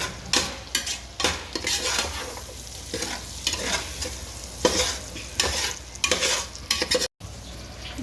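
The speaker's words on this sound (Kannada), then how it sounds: "ಸ್ವಲ್ಪ ಈರುಳ್ಳಿ ಕ್ಯಾರೆಟು ಬಟಾಣಿ ಕಾಳು ಬೇಗನೆ ಫ್ರೈ ಆದ ತಕ್ಷಣವೇ ಸ್ವಲ್ಪ ಫ್ರೈ ಆದರೆ ಸಾಕು" Onion, carrot and peas stir-fry in a pan, a sizzling hiss broken by frequent scraping strokes and clinks of a metal utensil against the pan, close and uneven, with a brief dropout near the end.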